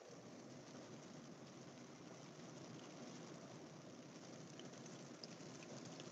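Heavy rain pours down in a steady, dense roar that holds at an even level throughout, with no voices over it.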